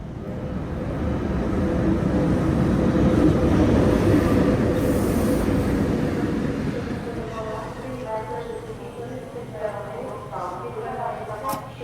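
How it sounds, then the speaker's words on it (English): A train pulls into a station platform in Ukraine, a broad rumbling roar that builds and then eases off as it slows, with people talking nearby toward the end. "Another train just arrived"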